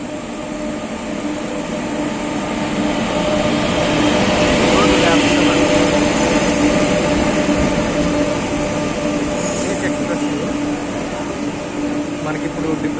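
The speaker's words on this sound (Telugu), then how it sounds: "మనకి ఇప్పుడు డిబ్రూగఢ్ నుంచి కన్యాకుమారి అయితే వెళ్తుంది ఈ ట్రైను" The Dibrugarh–Kanyakumari train rolls through a station at night with a steady, loud rumble and rushing noise that holds for several seconds and continues unbroken.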